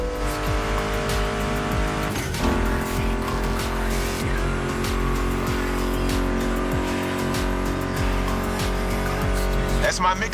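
Racing car engines in The Crew Motorfest roar and rev continuously over a steady music track, with tire squeals and shifting pitches across ten seconds, loud and busy throughout.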